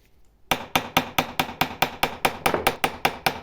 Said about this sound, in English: Here I'm just smoothing out any hammer blows left by the ball peen on my hammer